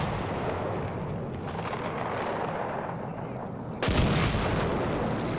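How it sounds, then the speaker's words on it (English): Battlefield 1 video game combat with a steady roar of gunfire and artillery rumble, then a loud, close explosion bursting in about two-thirds through, its heavy boom and debris wash continuing to the end. "Make some explosions here."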